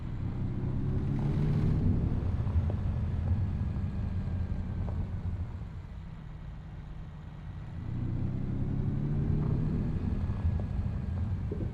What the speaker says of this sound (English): The sound of the truck is awful.